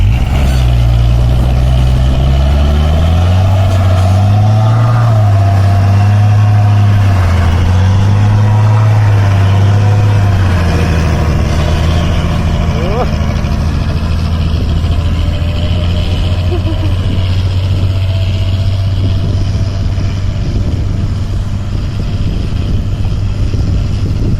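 A car engine of over 300 horsepower revs up and down several times in quick succession, then settles into a loud, steady, close-up rumble.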